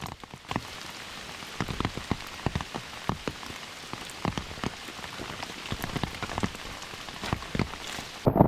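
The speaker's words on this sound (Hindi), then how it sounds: "बारिश ज़ोरों से होने लगी थी" Heavy rain pours steadily on the hill station of Matheran, with dense drops pattering on nearby surfaces in an unbroken wash of sound and no voices.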